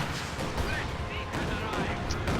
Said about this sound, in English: Big Katyusha barrage on this blob of Cruzz's forces